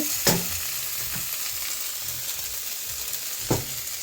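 Spinach cooking down in a pan, a steady close sizzle and frying hiss with a couple of brief sharper crackles or stirring clinks, alone without talk.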